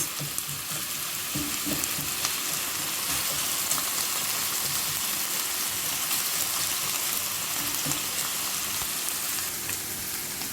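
Stewed pork simmers and sizzles steadily in a pot, a continuous close frying hiss with soft bubbling and no voices.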